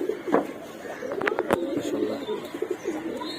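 Silver Bagha pigeons coo softly in low, throaty murmurs, with a few sharp clicks and rustles nearby.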